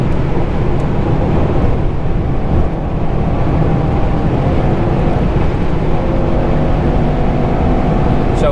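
A Mercedes E63S driving in race mode, a loud continuous engine roar and road rumble from inside the cabin, steady throughout with a slight rise near the end.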